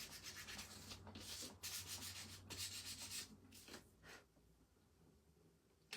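Gentle sanding of a wooden spring sign insert, a soft rhythmic rubbing of sandpaper across wood in repeated strokes that fade out near the end, fairly quiet and close with no talking.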